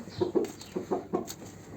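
A six-and-a-half-month-old Indian gamecock rooster clucks nearby in a quick run of short, throaty bursts, about half a dozen in uneven rhythm.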